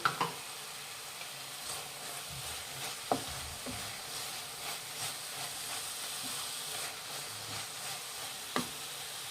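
Grated dry coconut being stirred into a carrot laddu mixture in a pan, a soft continuous sizzle and hiss with scraping stir strokes and a few sharp clicks of the spoon, close and fairly quiet.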